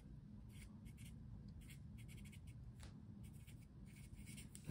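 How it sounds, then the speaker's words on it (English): Soft scratchy pen strokes come in short bursts as a Peperomia variety's name is written onto a strip of masking tape, quiet and close over a low steady hum. "So now on my masking tape, I'm going to write the Shumi Red."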